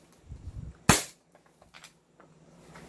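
An upgraded or non-upgraded Allosaurus or T-Rex airsoft gun fires one sharp, loud crack close by, with soft handling noises before and faint clicks after.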